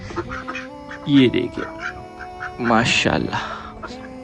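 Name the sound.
ducks quacking and chickens clucking on a farm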